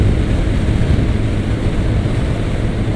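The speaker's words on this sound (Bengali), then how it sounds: "প্লেন যাচ্ছে" An airplane passes overhead near a road, a steady, loud, broadband roar that holds evenly throughout with no voices.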